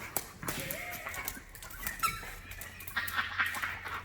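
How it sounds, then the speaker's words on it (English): Squeaky ball toy squeezed during dog retrieving practice, a few small high squeaks scattered over a faint background, near but soft. "Oh my gosh, the ball squeaks."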